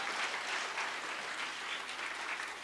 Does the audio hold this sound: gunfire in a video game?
no